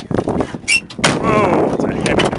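The heavy door of an old Chevrolet Impala Custom in a muddy junkyard slams shut with a single loud, deep thud and a brief metallic rattle, close by, with someone speaking around it.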